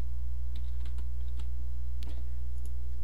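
Scattered keystrokes on a computer keyboard tap out a few short entries, light irregular clicks sitting over a loud steady low hum of background noise.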